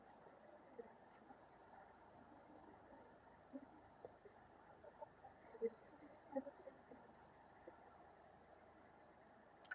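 Faint scratchy strokes of writing on paper or a board during a lecture, soft and intermittent, with a few slightly louder scrapes in a quiet room.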